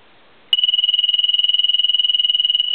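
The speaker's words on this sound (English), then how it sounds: "I'm going to go ahead and ring the phone." A military TA tactical telephone rings through its piezo buzzer, a loud, steady high-pitched electronic trill that starts abruptly and pulses rapidly without pause, close by and alone.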